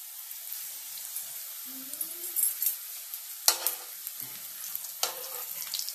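Beef rolls frying in hot oil in a pan, with a faint background sizzle punctuated by sharp spatters and pops, plus a few scraping stirs, and no talk.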